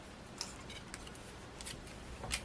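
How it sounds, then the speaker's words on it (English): Scissors snip off a piece of paper for a handmade mini notecard, heard as a few faint, crisp cuts spread across a couple of seconds over quiet room noise, with no talking. "I'll just stop there and snip that off."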